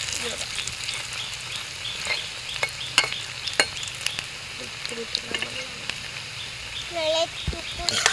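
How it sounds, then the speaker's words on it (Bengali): An egg and onion fritter sizzles and spatters in a frying pan, with scattered scraping and stirring clicks and someone speaking over the cooking. "এখন উল্টিয়ে দিই, উল্টিয়ে ভেজে দেব।"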